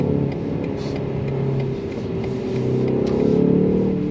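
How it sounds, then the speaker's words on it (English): A 2025 BMW M235 Gran Coupe accelerates up a hill with its exhaust open, producing a loud, steady engine and exhaust drone that rises slightly in pitch, with no talking. "Once the exhaust opens up, man, car gets louder."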